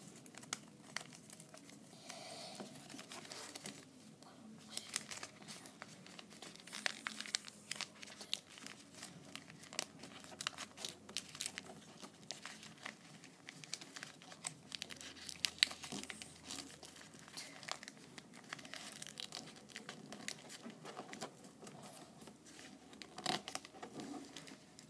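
Origami paper being folded and popped into shape while making an owl, with continuous close crinkling, rustling and crisp creasing sounds, fairly quiet and without talk.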